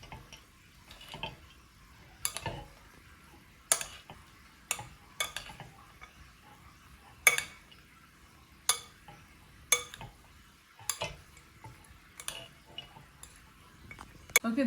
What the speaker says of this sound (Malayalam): ഇത് നന്നായിട്ട് മിക്സ് ചെയ്യാം.